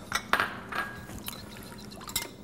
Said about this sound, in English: we're going to finish it off with a little bit of white wine vinegar